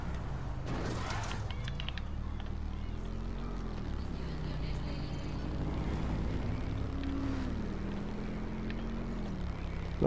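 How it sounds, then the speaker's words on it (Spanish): A motor scooter in the video game Watch Dogs Legion runs continuously up close with a droning engine hum whose pitch rises and falls as it rides. "El Rubius en la motoneta"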